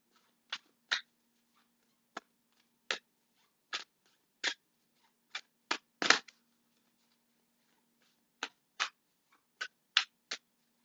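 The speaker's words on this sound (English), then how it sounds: "I'm going to pull out one card here from the Oracle card deck for you" Oracle cards being shuffled and handled to draw one, giving a series of soft, sharp card snaps and riffles spaced irregularly, close and quiet, with no talking.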